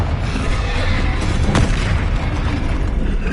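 A fiery Confringo spell blast from Hogwarts Legacy lands as one sharp boom within a loud, dense game soundscape.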